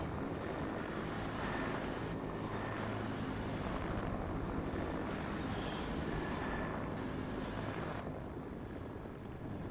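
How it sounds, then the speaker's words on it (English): A helicopter flies in the Fortnite video game, a steady droning whir of rotor and engine that holds throughout with no talk over it. "There's a helicopter."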